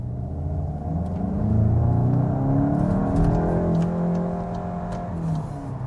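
A 2021 Volkswagen Golf GTI Mk 8 accelerating hard in sport mode, its engine rising in a loud, close rumbling drone that climbs steadily in pitch before easing slightly near the end, with no talking.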